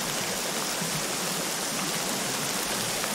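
River in the video game Sons of the Forest: a steady, broad rush of flowing water, loud and close, with no voices over it.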